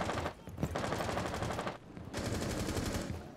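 Rapid automatic gunfire in Rainbow Six: Siege, dense bursts of rattling shots that pause briefly and then resume, loud and sustained with no voices over it.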